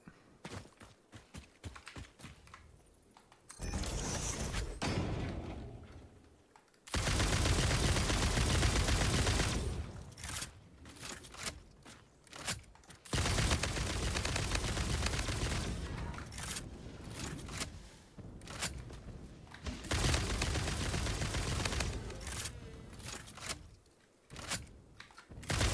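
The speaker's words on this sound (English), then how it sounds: "This homing rifle is pretty good." Homing rifle firing homing ammo in the video game Satisfactory, bursts of dense sustained gunfire in long stretches separated by brief quieter gaps with scattered ticks, loud and close.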